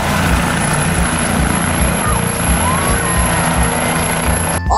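Loud, continuous whirring rotor drone of a toy helicopter with a steady mechanical hum, close and unbroken for several seconds.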